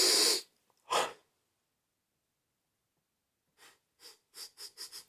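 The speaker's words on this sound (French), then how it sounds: "Je vais éternuer." A person sneezes in a loud burst, then a second burst follows, and after a pause there is a quick run of short sniffs or breaths building in rhythm.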